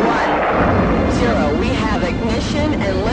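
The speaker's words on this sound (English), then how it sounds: "Ignition and liftoff from Cape Canaveral Air Station on the Air Force Delta II launch vehicle" A Delta II rocket igniting and lifting off from Cape Canaveral's Launch Pad 17A, a loud sustained rumbling roar with crackling bursts, heard under a voice talking.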